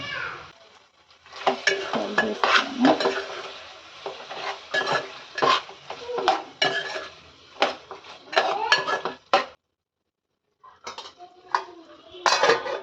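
A spoon stirs mutton curry in a metal pan, with loud repeated scraping and clanking strokes over a light sizzle, a brief pause, then more stirring; a voice speaks faintly underneath.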